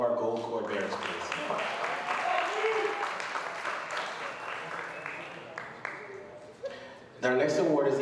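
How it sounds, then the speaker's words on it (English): An awards banquet audience gives sustained applause, a dense wash of clapping with voices mingled in, which swells again near the end. "One more round of applause for all of our gold cord bearers"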